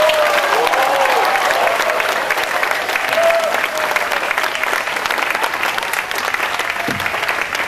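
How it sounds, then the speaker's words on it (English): An evening audience at Gardens by the Bay applauds a children's choir, loud, sustained clapping from a sizable crowd with a few faint cheers and voices mixed in, gradually easing toward the end. "Let's give them another round of applause."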